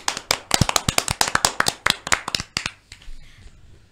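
A small group claps briefly and fairly loudly at an online blood-donation talk show, a quick burst of sharp, scattered hand claps that thins out and fades after about three seconds.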